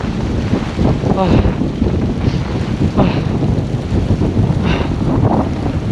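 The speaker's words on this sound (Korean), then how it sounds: "바람 엄청 불고, 춥고" Strong, cold wind buffets the microphone on a snowy mountain ridge in winter, a steady broadband roar with gusty surges throughout and no clear voices.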